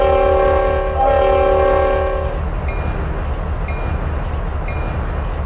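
A locomotive horn in the Trainz railway simulator, a loud sustained chord blast lasting about two seconds over a rhythmic rumbling engine, then the engine continues alone with brief faint tones.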